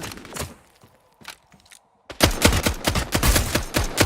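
Pistol gunfire in the video game Valorant, several sharp shots early and then a rapid burst of close, loud shots after a brief pause.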